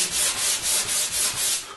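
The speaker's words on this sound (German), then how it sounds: "Wir können auch hier eine leichte Rundung anschleifen" Steady, close sanding on the edge of a wooden Sela snare cajon kit, a continuous loud abrasive rasp pulsing with back-and-forth strokes, and no one talking.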